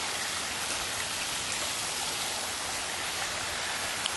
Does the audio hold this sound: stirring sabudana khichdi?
no